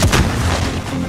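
Heavy incoming artillery rounds bursting in a military video game, a dense, loud low rumble of overlapping explosions with no pause and no talk.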